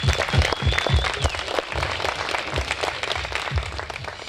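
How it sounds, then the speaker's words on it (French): Wedding guests in Orléans applauding the organisers, a warm round of clapping filling the room with some thumps and a few voices mixed in. "qu'on prenne un temps pour applaudir tout le monde qui a mis la main à la pâte"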